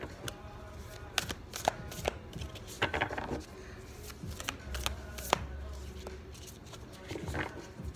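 Tarot cards are shuffled nearby, with soft riffling, slapping and sliding sounds in irregular bursts over a low background, without speech.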